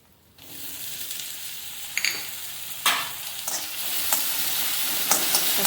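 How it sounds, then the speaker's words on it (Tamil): Ginger and green chilies for pav bhaji fry in a pan with a steady, close sizzle. Sharper bursts of stirring and spatter come and go, and no one speaks. "இஞ்சியும் பச்சை மிளகாவும் போட்டு நல்லா வறுத்துக்கணுங்க"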